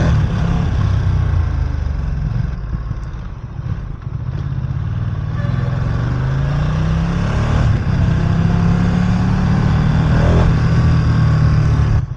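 Ducati Streetfighter V2 naked motorcycle ridden through city streets, its engine a loud, steady near drone that rises and falls with throttle changes over about twelve seconds, wind and road noise mixed in.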